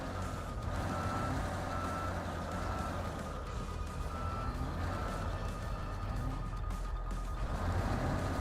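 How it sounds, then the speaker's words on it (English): A truck in Snowrunner reverses in Almaty with a rumbling engine throughout, and faint, repeated reversing beeps sit under the heavy drone. "I hope you like beeping sounds"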